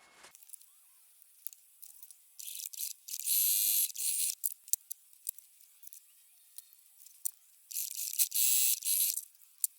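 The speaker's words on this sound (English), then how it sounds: "Because it's secured, we don't need to do anything with the thread, just cut it off" Scissors snip thread while sewing a quilted fabric wreath, heard as clusters of short, crisp, close clicks and rustles in bursts separated by near silence, fairly quiet and with no voices.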